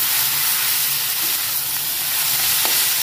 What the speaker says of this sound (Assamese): আৰু অকণ ফ্ৰাই হৈ লওক তাৰপিছত নুডলছখিনি এৰি দিম ইয়াতে